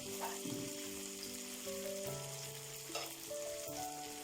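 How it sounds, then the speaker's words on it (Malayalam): A snack sizzles and bubbles in hot sunflower oil, a close, steady frying crackle lasting several seconds with light stirring noises. Soft background music runs beneath it, and no voices are heard. "അപ്പം നമുക്ക് ഒരെണ്ണം എടുത്ത് മെല്ലെ എണ്ണയിലോട്ടിട്ട്"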